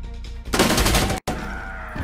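High-caliber pistol fire from the video game Insurgency Sandstorm bursts out in a loud, dense volley, stops abruptly for an instant, then a quieter rattle of continued firing and reverberation follows.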